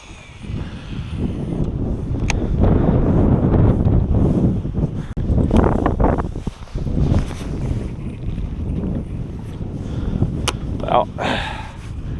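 Wind buffeting a microphone on a boat during solo musky fishing in Ontario, a loud low rumble that surges and fades across the whole stretch, with a few brief knocks near the end.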